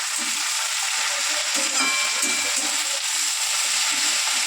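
Spinach greens sprinkled with salt hit hot oil seasoned with black cumin seeds in a frying pan, producing a steady, loud, close crackling sizzle that holds evenly throughout with no talking.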